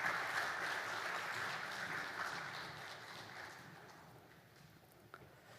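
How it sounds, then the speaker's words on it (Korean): A church congregation at a Friday prayer service applauding together, a broad wash of clapping that starts full and gradually fades away, no voices over it. "우리 다시 한번 큰 격려의 박수 부탁드립니다"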